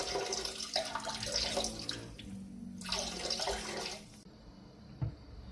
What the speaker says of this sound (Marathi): हे पहा हे सगळं पाणी असं गळतं आहे